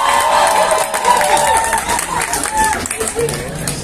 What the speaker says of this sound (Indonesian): Boleh tepuk tangan yang meriah juga untuk Amanda Manopo